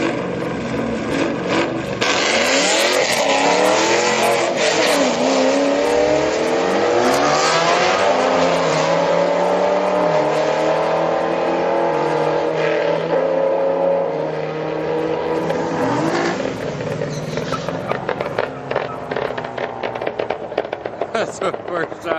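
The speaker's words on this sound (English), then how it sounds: "Here comes the Mustang with the run on the tail lights." A Ford Mustang street car makes a full-throttle drag run, its engine roaring loud and close as it climbs through the gears and then fades down the strip, with crowd noise and talk around it.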